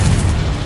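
A short, dense magical blast from the Confringo explosive spell in Hogwarts Legacy, heavy and booming in the low end, loud and close, with no talk over it.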